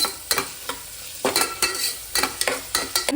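Egg biryani ingredients frying and being stirred in a pan, with a steady sizzle broken by repeated sharp scraping strokes of a spoon against the pan, close and fairly loud, with no talking.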